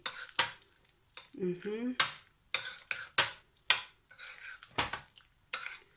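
Spoon stirring whipped cream into mashed avocado for homemade avocado and biscuit ice cream, with a series of clinks and scrapes against a bowl, fairly close, between short stretches of quiet.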